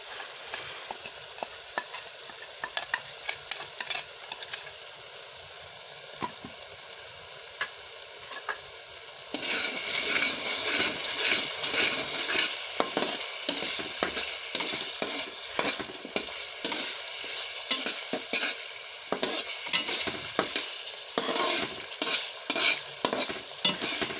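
Masala bubbling and frying in a pan for a curry of ginger and eggs, with a constant crackling sizzle that swells louder partway through, broken by repeated stirring scrapes and knocks.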